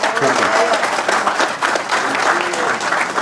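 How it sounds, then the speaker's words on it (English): A crowd at a senior center groundbreaking applauds a park commissioner, a brief, loud, dense burst of clapping mixed with overlapping voices and chatter throughout. "let's give him a round of applause, too"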